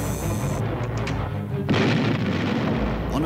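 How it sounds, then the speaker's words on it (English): Heavy booming artillery salvos from the battleship Bismarck, a dense rumbling roar that surges louder partway through and rolls on continuously. "Bismarck responds with a series of salvos."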